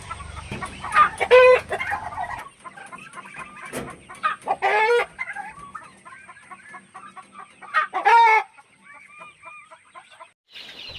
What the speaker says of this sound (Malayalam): അടുത്തതായിട്ട് വരുന്നത് കൈരളി കോഴിക്കുഞ്ഞുങ്ങളാണ്